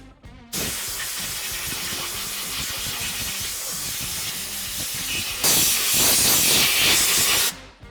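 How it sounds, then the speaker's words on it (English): Compressed air blower blasting mud, dirt and debris off the top of the fuel tank on a Polaris Ranger XP 900, a loud steady hiss that swells even stronger near the end before cutting off. "take an air blower and blow all the mud and dirt and debris off the top of the tank"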